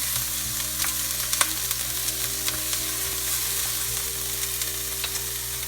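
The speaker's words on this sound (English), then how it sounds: "I'm just going to stir fry that for about 20 seconds so it starts to get fragrant" Sliced onion stir frying in a pan makes a steady close sizzle, broken by sharp little crackles and light stirring clicks that recur throughout, with no talking.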